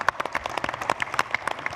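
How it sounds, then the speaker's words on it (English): Conference audience applauding after thanks to the organizers, a brisk patter of overlapping claps at moderate distance with a few sharper individual hand claps standing out. "Give him a round of applause."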